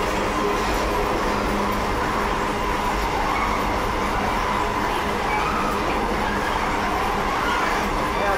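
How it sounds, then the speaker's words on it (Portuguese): Brand-new railroad freight wagons roll steadily past at close range, a continuous loud rumble of wheels on track with faint rhythmic clatter and occasional metallic squeal, no voices. "Olha que bonito, é tudo vagão novo."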